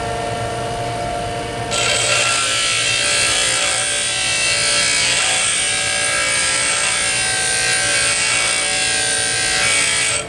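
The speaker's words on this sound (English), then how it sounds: "Difficult for two people to grind on one grinder." Bench grinder shaping a lathe threading tool: a loud, continuous high-pitched grinding whine starts after a brief motor hum and holds steady at close range for the rest of the clip, with no speech.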